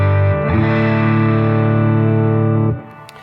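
An electric guitar on its bridge pickup plays through a Quilter MicroPro 200 amp, ringing out a sustained, slightly driven chord that holds steady for a couple of seconds before being cut off, with no talking.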